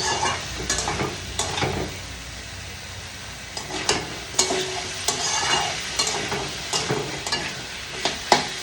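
Spices and a dal-style mixture being stirred and sautéed in a pan, with repeated scraping strokes of a spoon over a steady sizzle, close and fairly loud.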